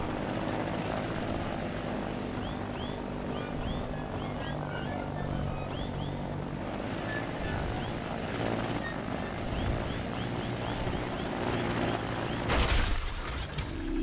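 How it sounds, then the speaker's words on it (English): A low-tech quadcopter built in the Trailmakers video game hovers with a steady, droning whir of spinning propellers that holds evenly throughout, mixed with faint chirping game ambience and a brief louder burst near the end. "See if I can actually get the throttle just right so I can hover."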